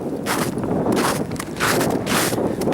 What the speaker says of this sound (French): le vent est de plus en plus violent